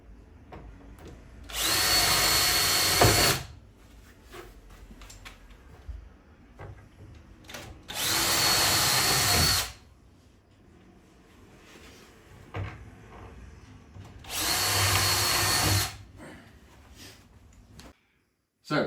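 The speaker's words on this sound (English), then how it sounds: "we need to drill some pilot holes 9 millimeters back from the front edge of the wardrobe" A power drill bores pilot holes into a fitted wardrobe side panel in three loud, steady bursts of whining roughly two seconds each, separated by quieter pauses with handling noise.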